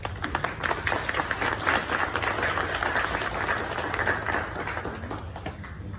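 An audience applauds scout packs and troops at a popcorn kernel training event, with clapping that stays fairly steady and moderately loud for six seconds.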